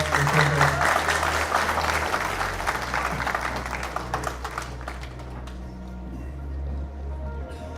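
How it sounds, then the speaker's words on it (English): An audience at a live technical conference session in Hyderabad applauds a first-time host, with sustained clapping from many hands that gradually thins out toward the end. "Can we give more round of applause to her?"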